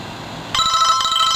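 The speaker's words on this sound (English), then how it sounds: "sorry about the phone" A mobile phone, a Motorola Karma, rings with a bright electronic tone that starts abruptly partway through and sustains steadily and loudly, with no talk over it.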